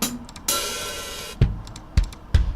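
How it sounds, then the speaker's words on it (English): Real drum kit samples auditioned one after another in FL Studio: a burst of cymbal wash, then punchy kick and snare hits with ringing overtones, each sample isolated and moderately loud, with no talking. "And you got real drum kits right there."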